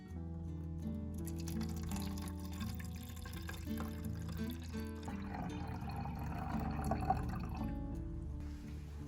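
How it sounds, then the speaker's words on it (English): Cinnamon solution pours into a spray bottle, a steady trickling, gurgling liquid sound that rises slightly in pitch as the bottle fills, quiet and alone with no voices. "Pour the solution into a specialized spray bottle."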